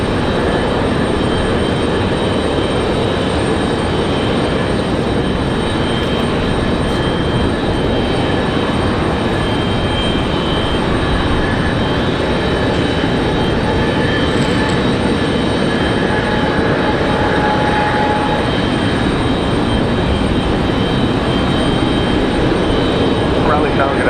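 Boeing 777 jet departing Raleigh Durham International, a loud sustained engine roar with faint whining tones running steadily through the whole span, with radio chatter and voices mixed underneath.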